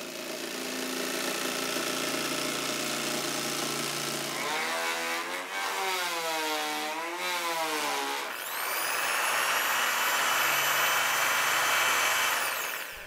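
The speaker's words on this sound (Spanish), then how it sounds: "Ahora lo que vamos a hacer es cortarlo con la caladora" Jigsaw cutting a wooden circle, a continuous loud buzzing whine that wavers in pitch as the blade follows the curve, with a brief drop in the middle before the cut resumes at full strength.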